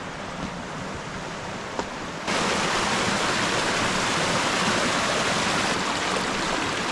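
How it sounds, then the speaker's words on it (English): A low river in the Tasmanian bush rushes as a loud, continuous broadband wash of flowing water, swelling abruptly to full strength after a quieter start and holding steady with no talk. "We haven't had much rain lately, so the river's not too crazy."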